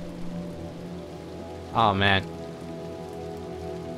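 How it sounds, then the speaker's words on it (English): Rain falls in the video game Little Nightmares 2 as a steady, soft patter on surfaces, with a brief spoken exclamation over it. "Back into the rain. Look at this. So good. Look at the freaking the rain."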